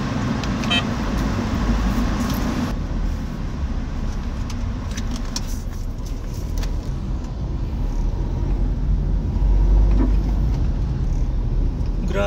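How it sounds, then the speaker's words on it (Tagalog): Heavy road traffic in Manila, heard from inside a car heading to the airport: a steady broadband rumble of engines and tyres that runs unbroken, with faint scattered horn toots and small clinks over it. "Grabe ng traffic mga paps"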